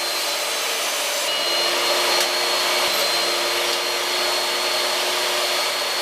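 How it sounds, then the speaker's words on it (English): A power tool cuts a roughly 3/8 by 1/2 inch dado into wood for a nightstand cabinet during a boat refit, a steady, loud high-pitched whine running continuously for several seconds with no voices. "So now I need to take out a roughly 3/8 by 1/2 inch dado out of that."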